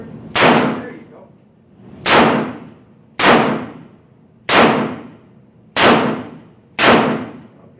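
Six sharp revolver gunshots crack out at a shooting range, spaced about a second apart with a short decaying ring after each, loud and close with no talk over them.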